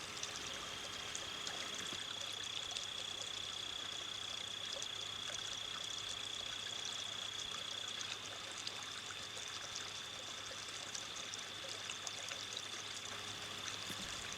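Water in Moore's Run, a stream flowing toward Back River, rushes in a steady, continuous wash with a faint high tone running through, even and unbroken throughout.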